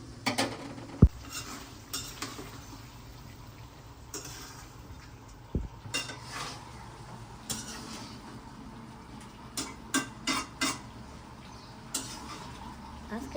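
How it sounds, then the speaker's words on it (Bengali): Metal spatula scraping and clattering in a wok while greens cook, with sporadic sharp clanks and scrapes over a steady low background hum, moderately close. "আজকে আপনাদের কম কথা বলে কড়াই খুন্তির শব্দটাই বেশি শোনালাম"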